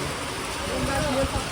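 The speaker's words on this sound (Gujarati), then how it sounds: "સારો વરસાદ આવી ગયો" Heavy rain pours down at Galteshwar Mahadev in a thick, constant roar with no pauses.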